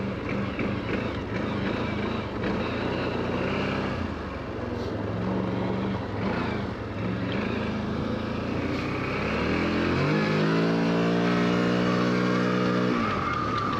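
CVT drive belt on a 2024 CF Moto Cforce 1000 Touring UTV straining under steady engine drone while riding, loud and close, with a rising whine building near the end.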